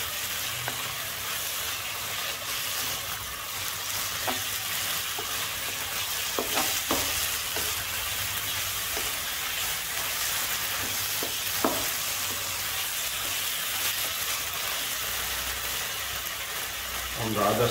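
Chicken and chana dal frying in clarified butter over a high flame, a steady loud sizzle with occasional stirring clicks and scrapes throughout.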